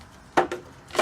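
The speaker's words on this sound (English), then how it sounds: "now I'm going to cut around this plant, this pot." Blade cuts into a thin recycled plastic pot around a plant in a bottle-garden project, giving three short crisp snips in quick succession, close and fairly loud.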